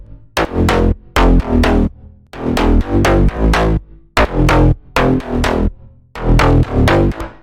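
A slap house bass line built from a single Serum synth preset plays solo in loud, punchy bouncing phrases, repeating in rhythmic two-bar patterns with sharp gaps between bursts.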